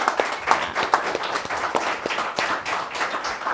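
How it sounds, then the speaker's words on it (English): A small studio audience claps, with scattered individual hand claps rising over a thin, moderate wash of applause that stays fairly even throughout. "So round of applause."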